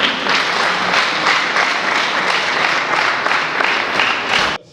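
Sustained applause from a church congregation at a wedding ceremony, steady and fairly loud with a dense clapping texture, cutting off abruptly at the end.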